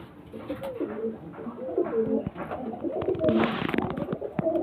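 Pigeons coo in soft, repeated rolling calls close by, overlapping one another with a faint rustle of handling and no clear speech.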